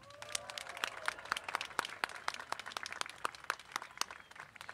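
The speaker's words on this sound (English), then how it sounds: "Please join me in another round of applause." An audience applauds at a 2023 undergraduate business school diploma ceremony: a steady, dense patter of many hands clapping that carries for several seconds without a break.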